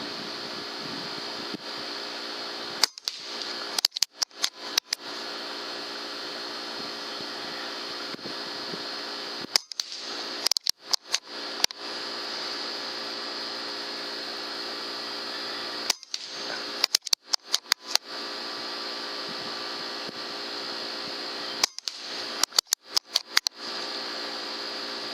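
A .22 Benjamin Fortitude air rifle fires Gamo Redfire pellets at 30 yards: several groups of sharp cracks and clicks over a steady hum from a fan, without any talking.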